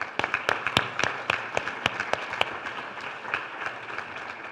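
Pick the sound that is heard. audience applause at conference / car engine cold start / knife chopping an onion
audience applause at conference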